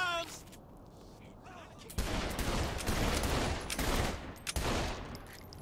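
Heavy gunfire from the video game Saints Row: The Third erupts after a quiet opening, with loud, dense volleys of rapid shots in several sustained bursts separated by brief pauses.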